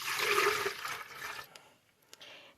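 Water poured into a container to make almond milk, a steady rushing pour that fades out, followed by a couple of faint clinks.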